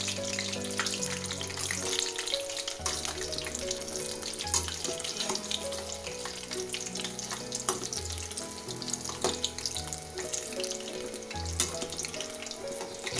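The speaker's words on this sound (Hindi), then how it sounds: "इसको लो टू मीडियम फ्लेम पर ही फ्राई करना है।" Green chili pakode deep fry in hot oil over a low to medium flame, giving a continuous bubbling, crackling sizzle with scattered pops, heard close and alone.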